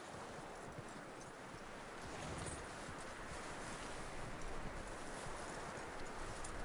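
Horse hooves clip-clop steadily in Red Dead Redemption 2, a continuous close walking rhythm over a constant wash of outdoor ambience, with no talk.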